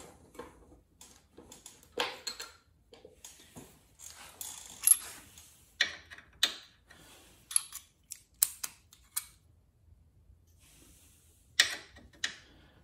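A 3/16 Allen key works loose the bolts on a Buell motorcycle, giving a string of sharp metallic clicks and taps spread irregularly over quiet gaps, close and fairly crisp.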